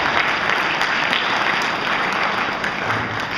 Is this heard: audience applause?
yes